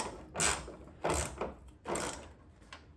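A ratchet tightens hood bracket hardware on an Acura RSX during a hood damper install. It gives three separate bursts of close, clicking ratcheting with short pauses between them.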